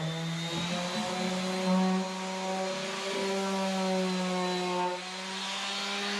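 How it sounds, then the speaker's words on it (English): A steady whining power sander with a sanding disc grinds continuously, removing old finish from a countertop, its pitch dipping and rising slightly as it works across the surface. "there's quite a bit of the old finish left on the top because it's gumming up the sanding disc"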